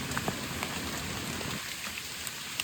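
Steady rain patters down in a dense, even hiss, with a few louder drops standing out near the start before it settles into a softer wash.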